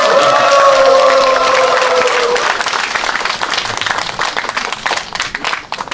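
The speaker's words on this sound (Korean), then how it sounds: "우리 신부님 뜨거운 박수로 맞이해주십니다" A church congregation on pilgrimage at the Hongju martyrs' shrine warmly applauds to welcome a Catholic priest. The clapping is steady and crowd-filled, with a voice heard over the first few seconds before the applause carries on alone.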